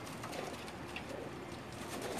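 Pigeons on a rooftop loft in Jeddah coo softly and faintly against a steady background hiss.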